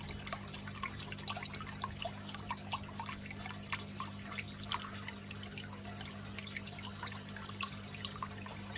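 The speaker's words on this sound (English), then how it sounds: "So it's starting to drain in now because it's full." Water draining out of a hydroponic flood and drain grow bed linked to fish tanks, a faint, quick patter of drips and trickles over a low steady pump hum, no voices.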